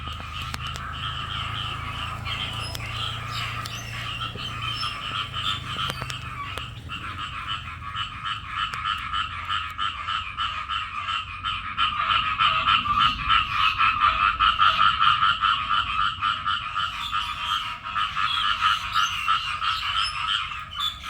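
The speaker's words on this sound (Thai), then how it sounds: "เสียงกบเขียดเสียงแซ่เลยนะได้ยินเสียง" A dense chorus of frogs croaking at night after rain in Thailand, a continuous layered trilling and chirping from many animals that swells louder midway and stays steady, with no voices.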